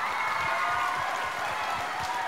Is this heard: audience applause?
yes